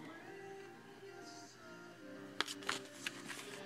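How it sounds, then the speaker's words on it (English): A few crisp paper flips as pages of a small Monster High doll booklet are turned one after another, over quiet background music. "My page turning skills are getting better."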